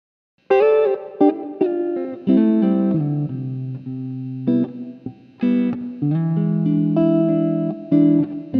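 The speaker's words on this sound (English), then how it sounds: "The spring, which is a classic spring reverb." An electric guitar played through a NUX Damp reverb pedal set to a classic spring reverb gives loud picked notes and chords with a splashy, lingering tail. The phrases come in several bursts with short gaps between them, and no talk.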